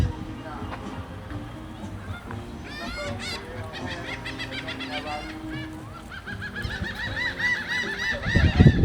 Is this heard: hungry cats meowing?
no